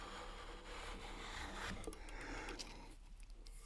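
A hand plane with a cambered blade takes shavings off the edge of a wooden board, giving a steady, close rasping hiss of continuous strokes with no talk.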